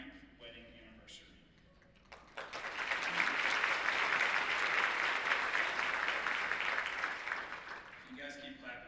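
An audience at an adoption-story talk breaks into steady, dense clapping after a short stretch of quieter sound. The applause holds strong for several seconds, then tapers as a voice returns near the end.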